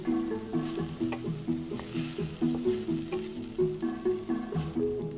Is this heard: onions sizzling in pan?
yes